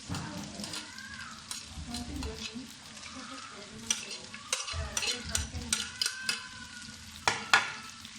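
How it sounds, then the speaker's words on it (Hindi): Onions fry with ginger and garlic for tawa baingan, sizzling and crackling in a hot pan while a utensil stirs and scrapes now and then, fairly quiet and close. "प्याज अच्छी तरह फ्राई करें।"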